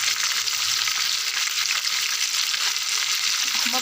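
Tuna fish frying in a pan gives a steady, close, loud sizzle with dense crackling that holds evenly throughout, no talking.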